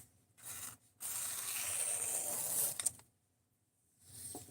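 A knife blade worked over 200 grit abrasive gives a brief rasping stroke, then a longer sustained scraping pass of about two seconds, a pause, and a fainter stroke at the end, close and alone.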